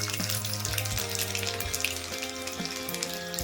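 Mustard seeds and garlic cloves sizzling in hot oil in a pan, a continuous close crackle with faint popping bursts over the steady hiss.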